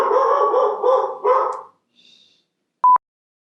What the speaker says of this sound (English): This dog has to bark in every single video that I do.